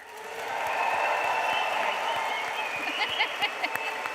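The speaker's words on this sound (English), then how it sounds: "I would like to do a practice run of this cheering and applause to check the volume levels" Graduation ceremony guests in a large hall cheer and applaud during a practice run, a broad sustained wash of crowd noise and clapping that holds steady, then thins toward the end with a few distinct claps.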